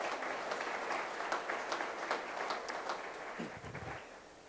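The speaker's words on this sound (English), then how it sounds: "That's worth applause." Audience at a State of the City address applauds, steady moderate clapping from a seated crowd that tapers off near the end as a voice begins.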